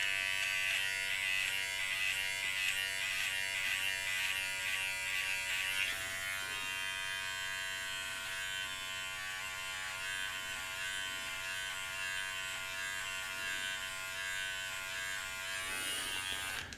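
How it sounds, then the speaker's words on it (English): Electric hair clipper trimming sideburns downward, a steady close buzz running the whole time, slightly louder at the start and again near the end, with no talking. "I'll just go downward with the clipper to shorten the sideburns."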